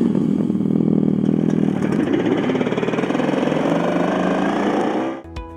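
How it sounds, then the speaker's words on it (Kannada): Simulated motorcycle engine played through the speaker of a Revolt RV400 electric bike, a loud, steady, throbbing idle rumble that runs for about five seconds, then cuts off abruptly. "ನಿಮ್ಮೊಂದು ಬೈಕ್ನಲ್ಲಿ ಬೇರೆ ಬೈಕ್ನ ಸೌಂಡ್ಗಳನ್ನು ಸೆಟ್ ಮಾಡ್ಕೋಬೋದು"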